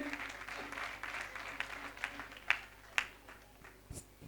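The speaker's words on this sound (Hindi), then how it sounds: "जोरदार तालियां सीमा जी के लिए।" An audience at a Nandotsav celebration applauds a guest being welcomed, a sustained patter of clapping with several sharper, louder claps standing out near the end.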